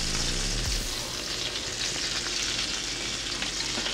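Rosemary and two garlic cloves fry in butter in a salmon pan, giving a dense, steady sizzle that fills the whole stretch, close and fairly loud, with a brief low rumble at the start.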